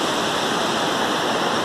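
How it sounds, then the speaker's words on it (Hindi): Water cut from a river rushes through an irrigation channel in Maldevta, Dehradun, Uttarakhand. It is a loud, steady, broadband flow heard up close, with no voices. "ये नदी से रास्ता काट के निकाला जा रहा है पानी, ये भी सिंचाई की यूज़ होगा।"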